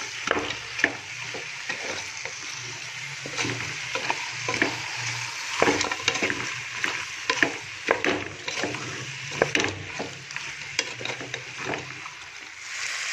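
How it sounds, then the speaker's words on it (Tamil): A goat head is stirred through sizzling masala in a pan for a Tamil-style gravy, with steady frying hiss and repeated scraping and knocking of a spoon against the pan throughout. "நல்லா இந்த மசாலாவோடு நல்லா பரட்டி விட்டுருங்க."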